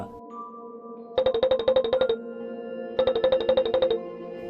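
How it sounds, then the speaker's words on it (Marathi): A phone lying on a coffee table rings with a ringtone effect: two bursts of rapid, bright, repeating electronic chirps, each lasting about a second, separated by a short pause, loud and close. "समोर कॉफी टेबलवर ठेवलेला रितिकाचा फोन वाजला"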